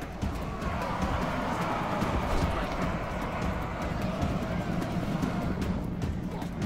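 Horses gallop in the strategy video game Rome: Total War, with a dense, continuous drumming of hooves over battle noise that holds steady throughout.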